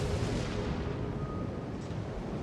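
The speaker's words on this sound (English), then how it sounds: "I will just keep trying to get shells on him" Naval guns in a warship video game firing shells at an enemy ship: a continuous heavy rumbling roar of distant booming blasts, loud and dense throughout without clear gaps.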